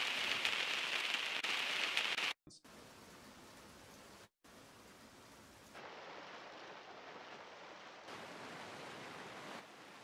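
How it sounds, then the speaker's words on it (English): Rain sample from a Nexus 3 lo-fi synth plugin: a steady wash of hissing rainfall, broken by two brief dropouts, then continuing as an even, moderately loud patter with no voices. "And I think this one's just the rain."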